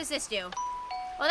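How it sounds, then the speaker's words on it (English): A Minecraft doorbell chimes in a two-note ding-dong, its tones ringing on and fading in the middle of the clip, with people speaking just before and after it. "that's the doorbell."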